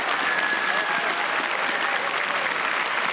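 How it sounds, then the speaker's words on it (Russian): Dense, steady applause from a large studio audience at a comedy club show, loud and continuous throughout with no pauses. "Аплодисменты."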